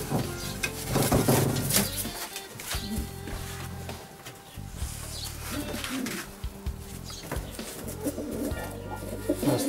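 A male racing pigeon in a breeding loft, with cooing and bird calls under a dense, steady rustling, scraping wash of noise that continues throughout, close and fairly loud.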